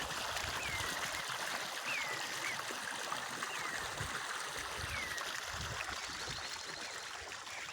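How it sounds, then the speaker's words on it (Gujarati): Water from two pump motors gushes steadily into an onion field, making a continuous, fairly faint rushing and trickling sound. Faint bird chirps occasionally rise above the flow. "બે મોટરનું પાણી વારું છું"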